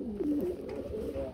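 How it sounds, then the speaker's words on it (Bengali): A Lahori pigeon gives a low, rolling coo at close range, a soft continuous murmur with a slight rising inflection, and no voices. "লাহোরি কবুতর, নরমাদি কনফার্ম আছে"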